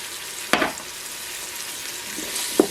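Faint, steady sizzling of garlic cloves frying in a Ninja Foodi pot, with a couple of brief clinks or stirring sounds.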